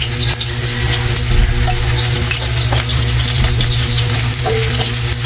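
Onions sizzling loudly in a hot pan while being stirred, a steady, dense frying hiss with scraping and clatter from the stirring, close and continuous throughout.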